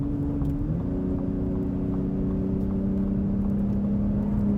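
Exhaust of a 2021 Ford Raptor fitted with a trombone loop on the right-side bank, heard as a steady low droning idle with a slight pitch rise early on, close and even, no talk.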